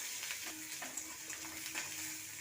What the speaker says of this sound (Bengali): পেঁয়াজটাকে হালকা একটু নেড়ে নিয়ে আলুটাকে তুলে দেবো।